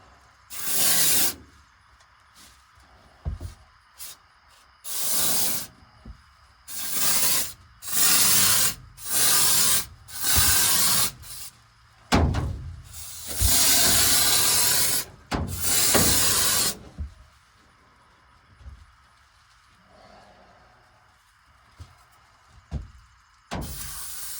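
Repeated bursts of hissing from a spray foam can, some short and some held for a few seconds, with brief quiet gaps between them and no talking.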